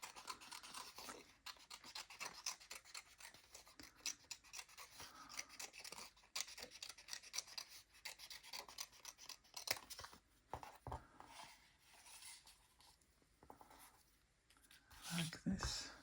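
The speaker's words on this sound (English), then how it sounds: "Let us also cut this out." Paper is snipped out by hand with scissors for a collage, a quick run of close, crisp cuts and rustles repeated in short bursts while a person talks softly over the work.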